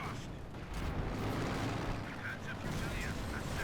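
Rumbling explosions and booming blasts from Company of Heroes 2 fill the clip, dense and continuous, with a voice talking over the chaos.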